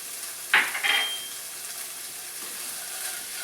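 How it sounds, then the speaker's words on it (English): Beans seasoned with chili powder and cumin are stirred in a pan: a sharp metallic scrape of the utensil near the start, then a soft, steady sizzle with faint stirring. "I'm just going to stir this up"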